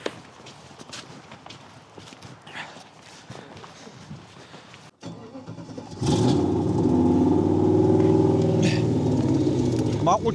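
BMW M8 on a service lift with its exhaust muffler disconnected. After a few seconds of quiet movement and low voices, the engine fires up and settles into a loud, close, booming idle.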